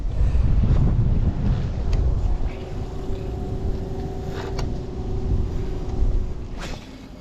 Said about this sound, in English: This wind is really starting to crank up even more now